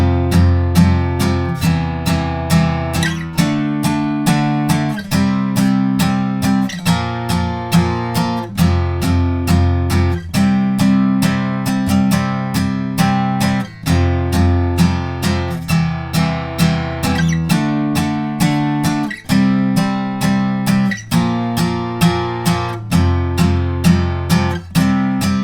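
An electric guitar strums the rhythm part of the solo section of a song, with steady repeated chord strokes and chord changes throughout. It plays alone and clear, close up, with no talking.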